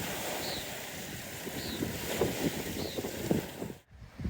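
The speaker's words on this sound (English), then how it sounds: "Just after dinner, the wind came up" Wind gusts across a campsite in the Owyhee country of eastern Oregon after dinner, a faint, rough rushing with buffeting on the microphone and soft thumps.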